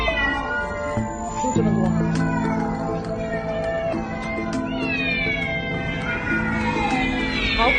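Rescued cats, some near death, meow repeatedly, with several overlapping cries rising and falling close by while a person speaks briefly over them.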